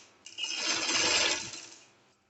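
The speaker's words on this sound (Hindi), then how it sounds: "अब हम सिलाई लगाएंगे" An electric sewing machine stitches the folded neckline of a fancy shirt, a close, steady whirring run that starts abruptly, holds for about a second and a half, then winds down and stops.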